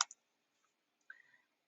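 A computer mouse clicks on a college's name: a sharp, quiet click or two at the start, then a softer little cluster of clicks about a second later, in a silent room.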